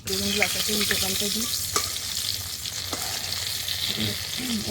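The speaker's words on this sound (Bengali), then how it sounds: "গাছে আজকে মাত্র দুটো কুমড়ো ফুল ফুটেছিল সেই দুটোকেই এখন ভাজবো" Steady sizzling of two pumpkin flowers frying in a pan, a continuous hiss with occasional clinks and scrapes, and faint voices in the background.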